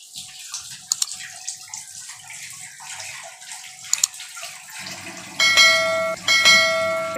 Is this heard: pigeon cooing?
no